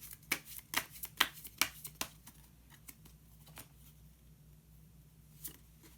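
Tarot cards are shuffled in a rapid series of sharp riffling snaps, then drawn with a few softer taps, quiet and close, with no one speaking.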